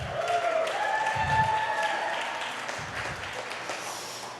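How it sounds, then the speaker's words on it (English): An audience at a startup angel investor summit gives a round of applause for event partners, a moderate wash of clapping that swells early and then slowly fades over a few seconds. "If we could give them a round of applause."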